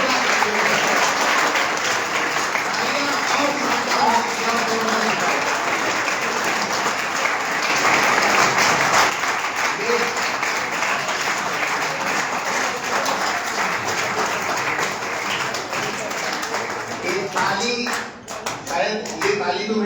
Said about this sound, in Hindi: शायद ये ताली तुम्हें बहुत अच्छे से याद होगी।